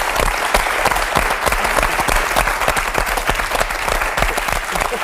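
A French TV talk-show studio audience breaks into loud, steady applause, dense clapping sustained throughout with faint voices mixed in.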